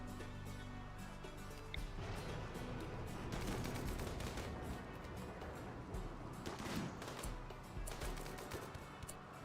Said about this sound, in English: that's the sniper firing off